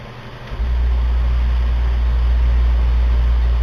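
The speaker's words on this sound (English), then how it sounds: "if you hear that running noise in the background, it is my AC unit" A window air conditioner kicks on and runs with a steady low hum and rumble, continuous and fairly loud, no talking.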